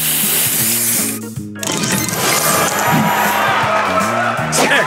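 Spray booster effect from the Match Masters mobile puzzle game: a bright hissing, whooshing burst with a rising sweep, layered over upbeat, chunky game music and chiming tile effects.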